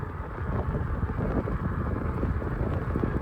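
Wind buffets the microphone while riding an e-bike on a breezy day, a steady low rumbling roar with no pauses, loud and close throughout.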